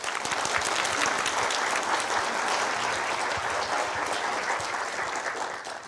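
An audience at a winter lecture applauds to welcome a speaker, a dense, steady wash of clapping that stays loud throughout and tapers slightly at the end.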